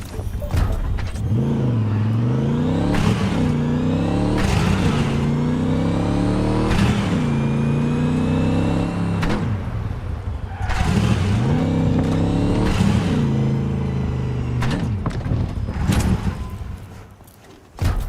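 A car in the video game Cyberpunk 2077 drives continuously, its engine revving up and down through repeated gear shifts with rising and falling pitch, loud and close throughout with no talk.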